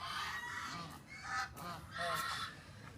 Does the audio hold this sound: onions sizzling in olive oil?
no